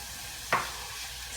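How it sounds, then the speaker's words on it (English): Onions cook softly in a pan with a low, steady sizzle, and a single brief stirring scrape stands out partway through. "we're gonna let these onions cook until they're a little softer"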